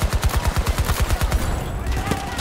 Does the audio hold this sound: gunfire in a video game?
yes